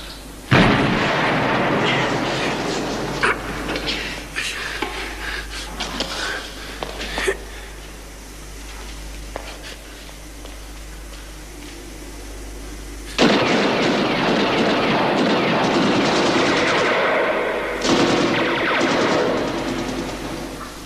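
Heavy gunfire and artillery boom and crack at close range, loud bursts and sustained rumbling with scattered sharp shots, a fresh intense barrage surging in partway through.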